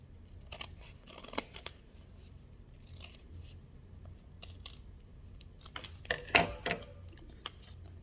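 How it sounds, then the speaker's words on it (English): Scissors snip through a vinyl template in short, crisp bursts, irregular close cuts with quiet pauses between and a louder cluster of snips near the end. "I'm going to go ahead and cut this out."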